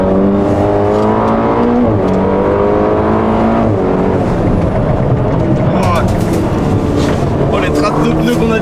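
Ferrari Portofino driven hard around a timed lap, engine loud and close throughout with rising and falling revs as it shifts through gears, voices talking over it.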